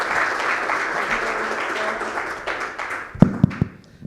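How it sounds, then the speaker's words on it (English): An audience applauds a speaker at a digital payments infrastructure event, with steady dense clapping running for several seconds before thinning into a few louder, separate claps at the end. "Please give him another round of applause."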